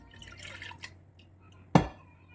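A single close drip of water lands with a sharp splash while draining sweet chutney ingredients, over a faint, steady background hum.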